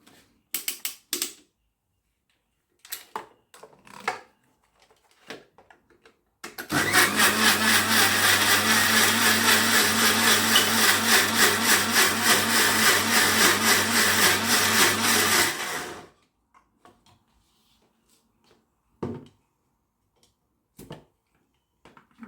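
A blender whirs loud and steady for about nine seconds as it purées avocado with honey into a smoothie, starting and stopping abruptly between quiet kitchen clatter.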